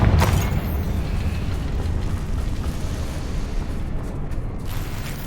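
A Confringo fire-blast spell in Hogwarts Legacy bursts with a loud opening boom, then a continuous rumbling, crackling roar that holds steady at close range for several seconds.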